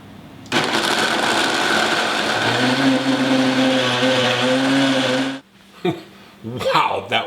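A blender purees tomato, watermelon and onion for gazpacho, its motor kicking in with a loud, steady whirring roar that settles into a lower hum for about five seconds, then cuts off as a voice speaks.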